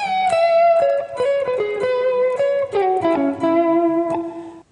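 Electric guitar plays a quick bluesy single-note run, with sustained, slightly overdriven notes stepping downward, close and clear with no talking.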